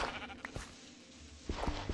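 A sheep in Minecraft gives a couple of wavering bleats, moderately close, amid small game sounds and footsteps.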